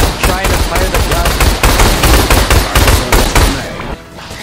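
Rapid automatic gunfire from a video game's mounted gun rattles loud and continuous in dense bursts, then cuts off abruptly near the end.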